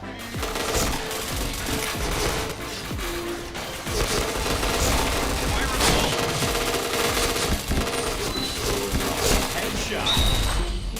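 A shooter video game fills with dense, rapid gunfire: sustained machine-gun bursts and scattered single shots at close range, along with crashes and thuds. Voices are heard in the background at points.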